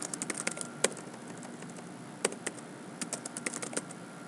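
Computer keyboard typing out an essay sentence, in quick bursts of close, crisp keystrokes with short pauses between them and no talking.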